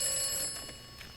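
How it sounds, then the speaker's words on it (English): A phone booth telephone ringing in the game Atomfall, a single short electronic bell-like ring close up that fades out quickly. "you can go ahead and answer the phone"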